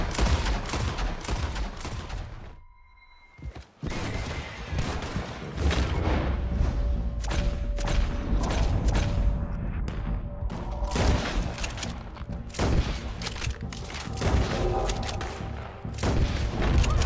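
Gunfire in Red Dead Redemption 2 roars in a dense, sustained barrage of overlapping shots and booms, loud and close, with a brief lull early on before the shooting resumes.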